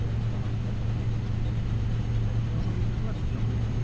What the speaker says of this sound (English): See it spooling up.